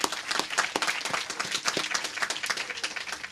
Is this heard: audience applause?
yes